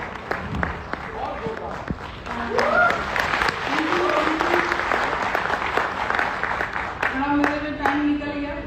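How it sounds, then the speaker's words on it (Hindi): Audience applause at a Sunday Amway team meeting in Patna, a steady wash of many hands clapping close by for several seconds, with a voice and cheers rising above it and voices carrying on through. "जोरदार तालियां सुनीता के लिए।"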